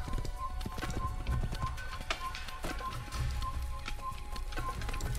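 Horse hooves clip-clop at a galloping pace in Assassin's Creed, a steady close rhythm over faint ambient game noise with no talk.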